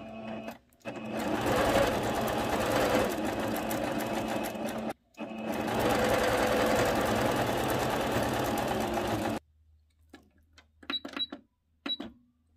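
Sewing machine stitching a seam on a child's dress, running in two long, steady, loud whirring bursts separated by a short pause, then stopping, followed by a few faint clicks and handling sounds.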